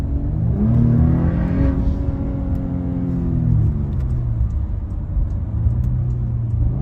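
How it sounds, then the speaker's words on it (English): A 2019 Porsche Cayenne engine revving under acceleration, with rising and falling tones as the PDK gearbox snaps through quick shifts, loud and close throughout. "God, I just love that sound and how snappy those shifts are too."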